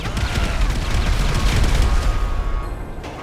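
A bomb blows up on a train in GTA V, filling the scene with a dense, continuous roar of blasts and crackling booms that stays loud throughout.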